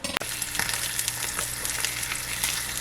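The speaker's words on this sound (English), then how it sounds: "So while that bacon is rendering" Bacon slices render in a pan with a steady, close crackling sizzle, sharp pops and spits scattered over the continuous frying hiss, with no talk.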